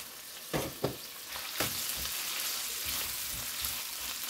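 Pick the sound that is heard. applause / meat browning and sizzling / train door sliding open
meat browning and sizzling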